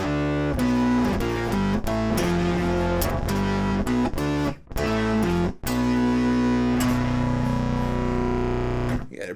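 Electric guitar run through an EarthQuaker Devices Bit Commander octave fuzz pedal gives a thick, synth-like fuzzy tone with stacked octaves, sustained notes and short riffs with two brief breaks, loud and alone.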